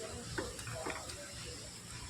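Lachha paratha made from leftover rice fries in a pan while being pressed down, a soft, even sizzle with faint scraping, heard under someone talking.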